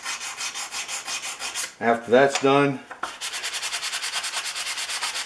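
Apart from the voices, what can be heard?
sanding stick rubbing the sides of a Stanley No. 148 match plane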